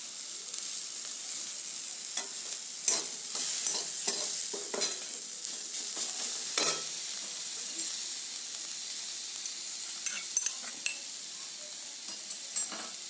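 A kofta curry mixture frying in a pan is stirred with repeated spoon scrapes and knocks against the metal over a steady low sizzle and hiss, close up, with no one speaking.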